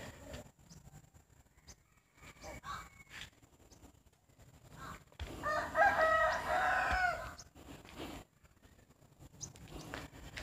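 Backyard chickens in a home garden, with faint scattered clucks and one louder crowing call in the middle, heard from a moderate distance over quiet outdoor ambience.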